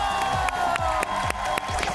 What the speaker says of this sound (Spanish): el aplauso gigante, la ovación para Helada